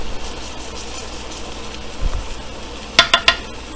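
Dahi bare lentil dumplings frying in hot oil, a soft steady sizzle throughout, with a low clunk midway and three quick sharp utensil clinks near the end, no talking.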